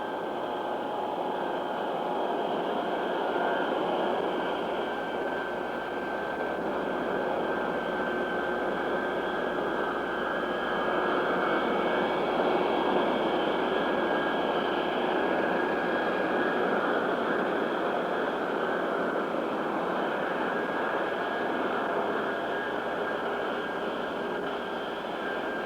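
A Boeing 707 jet airliner taxis out with a steady, loud roar of jet engines and a high whine, continuous and unbroken throughout, with no voices.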